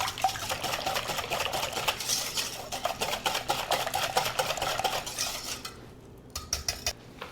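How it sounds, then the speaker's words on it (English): A wire whisk beats citrus loaf batter by hand in a bowl, a rapid clinking, scraping rhythm that runs steadily for several seconds before slowing to a few last taps. "I'm going to whisk that up."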